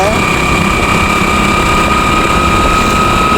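Motorbike engine running steadily while riding on a road in the morning, a constant close drone with a high whine, loud and unbroken throughout.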